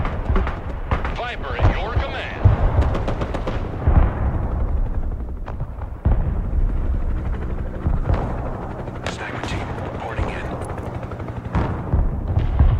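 Artillery fire and gunfire crash through a battle in the video game Broken Arrow, with repeated loud booms and bursts layered over constant combat noise while a person talks throughout.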